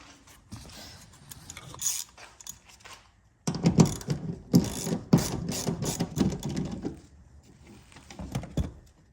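Ratchet wrench backing out three 10mm bolts inside a 2020 Toyota Tacoma cab, with rapid clicking pawl bursts in several close, loud runs separated by brief pauses.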